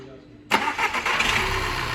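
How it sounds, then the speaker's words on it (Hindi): A Skoda Superb 1.8 TSI petrol car, suffering an engine misfire, cranks briefly and catches, then settles into a steady close idle. "गाड़ी को क्रैंक करो।"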